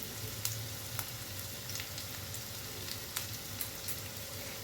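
Onions frying in a pan over a medium gas flame, with a pinch of sugar added, for Bengali-style egg rice. A steady, close sizzle runs throughout, with occasional sharp pops and crackles and no talking.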